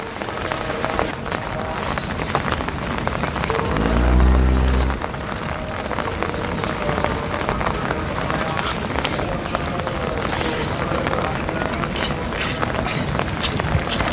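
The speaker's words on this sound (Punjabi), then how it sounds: "ਬਸ ਨਿੱਕੀ ਨਿੱਕੀ ਕਣੀ ਦੇ ਮੀਂਹ ਪੈਂਦੇ" Light rain patters steadily on a surface nearby, a continuous soft crackle of drops with a brief low hum partway through.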